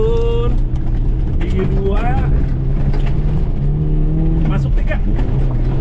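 Suzuki Jimny engine revving and pulling off-road through muddy terrain after shifting from second into third gear, loud and close with rising pitch sweeps, under steady talk.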